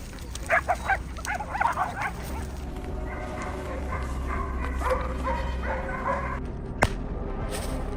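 Hunting dogs bark and yip in a burst of overlapping calls near the start, then whimper and bay more faintly over a steady outdoor rumble, with one sharp knock late on.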